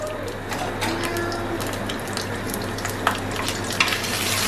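Red and green chillies roast in a hot pan for an achari chicken dish, giving a steady, moderate sizzle with light scraping and a couple of small clicks, no talking.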